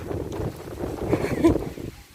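Strong wind blows on a rainy day, buffeting the microphone with a low, uneven roar and rumbling gusts while a person talks faintly underneath.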